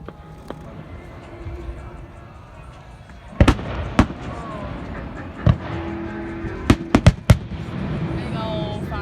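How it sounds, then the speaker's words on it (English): Fireworks burst in a scattered series of sharp booms and crackles over a noisy outdoor background with faint voices. "Big old fireworks."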